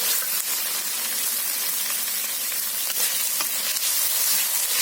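Vegetables cooking in a pan for a cheese macaroni pasta, a bright, even sizzle and hiss with faint occasional stirring scrapes, steady and close for the whole stretch, no voices.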